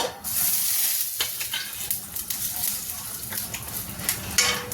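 Cumin seeds crackle and sizzle in hot oil, a close, steady frying hiss with faint scraping and clinks of stirring scattered through it, and no one talking.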